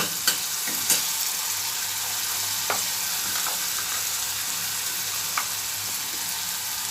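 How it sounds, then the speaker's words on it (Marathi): Onions sautéing in a pan for a bitter gourd stir-fry give a steady close sizzle, with a few sharp scraping clicks as a spoon stirs them, and no voices. "कांदा छान आपला परतत आलेला आहे"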